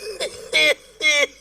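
A person coughs or clears their throat three times in quick succession, close and fairly loud.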